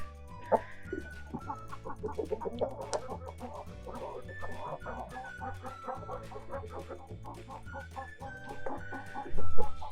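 Several laying hens cluck and murmur close by in a henhouse, with busy overlapping calls and the occasional louder squawk over a steady low hum.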